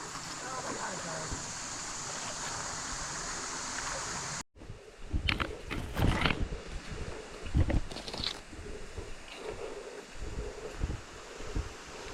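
Stream water rushes steadily at a crossing on the Window Cliffs Trail in Tennessee, close and continuous, with rustling and handling noise and a brief cut partway through.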